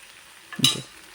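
A prawn masala with tomatoes sizzles in a pan and gets a single brief stir, one short scraping, frying burst that rises out of a quiet background and fades within a few tenths of a second.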